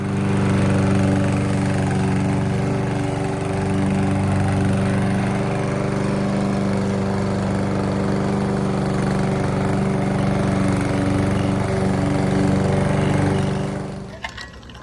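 A lawn mower works through moderately overgrown grass, its engine droning steadily and close at a constant pitch for the whole stretch, then cutting off abruptly near the end.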